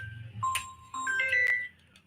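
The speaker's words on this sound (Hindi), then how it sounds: "गोविंद भाई लाइव हूँ, बाद में फोन कीजिए" A phone rings with a short melodic electronic tone, a few bright beeping notes rising and falling over a faint background hum in a TV repair workshop.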